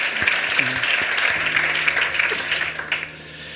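Audience applause for Luis Ferrandiz at a leadership talk, a continuous wash of clapping with a few low tonal sounds and brief voices mixed in, tapering slightly at the end.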